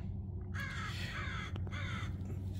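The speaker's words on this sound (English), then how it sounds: "Sounds like the bird agrees." A crow caws a few times at a distance, harsh calls standing out over a steady low background rumble.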